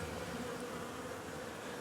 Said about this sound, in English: you can see the cluster of bees there